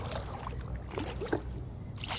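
A kayak gliding across Lower Lake near Pardeeville, Wisconsin, with soft paddle dips and gentle water trickles and drips over a low steady background, close and quiet with no talking.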